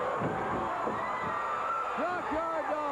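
A wrestling arena crowd cheers loudly and steadily for Junkyard Dog during a USWA/CWA match against Lawler, with continuous roar and whoops throughout, and excited voices rising near the end.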